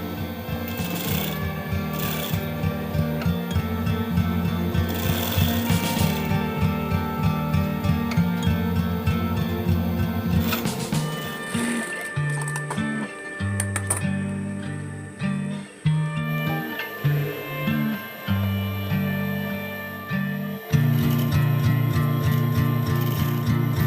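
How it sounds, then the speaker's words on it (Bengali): A sewing machine stitching the side seams of a zippered pencil bag, running in rapid mechanical bursts with short pauses and stop-start changes in pace, close and loud. "তারপর ওই আগের মতো করে একই রকমভাবে সাইড সেলাই করে চেনের উভয় দিকে যুক্ত করে নেব"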